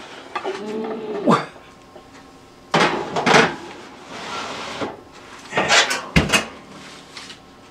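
A pot of stew goes back into an oven before dawn, giving three clusters of clunks and knocks from the pot and oven door, separated by quiet pauses, fairly close and with no talking.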